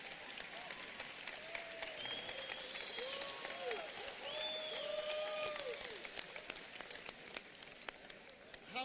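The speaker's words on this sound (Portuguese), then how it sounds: "Vamos dar palmas para ele." Quiet audience applause in a gathering, soft continuous clapping heard from a distance, with faint whistles or voices rising over it midway through.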